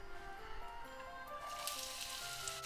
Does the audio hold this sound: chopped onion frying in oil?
yes